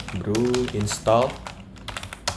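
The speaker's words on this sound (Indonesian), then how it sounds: "untuk menginstal Spark itu caranya adalah kita cukup mengetik" Keystrokes on a computer keyboard entering a terminal command on a Mac, light rapid clicks scattered under someone speaking.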